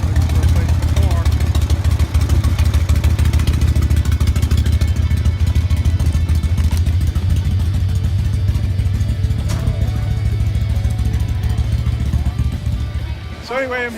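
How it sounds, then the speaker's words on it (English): A motorcycle arrives at a vintage motorcycle festival in Lake Park, Florida, its engine running steadily and loudly close by with a constant low rumble through the whole stretch, and voices heard alongside it. "Here comes another bike coming in. Looking for a place to park."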